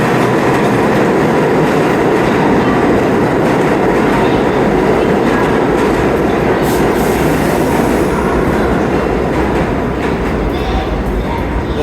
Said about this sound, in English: here comes an old school A train, R46